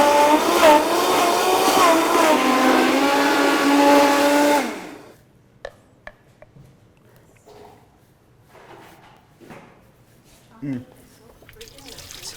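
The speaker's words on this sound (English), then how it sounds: "Just gonna blend it all together for a creamy sauce for the tacos." Blender whirring loudly as it purées a sour cream taco sauce with Thai chilies and cilantro, a steady high-pitched motor drone that cuts off abruptly partway through, leaving quiet kitchen clatter.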